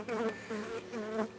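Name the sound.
honeybees buzzing at a beehive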